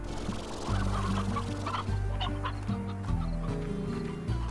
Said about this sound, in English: it's a brave new area full of chickens